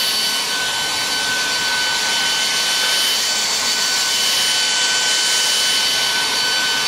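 Philips Active Cool 1650 HP3462 hair dryer running on high heat and high speed, a loud, steady broadband airy roar with a faint motor whine, close and continuous with no talking.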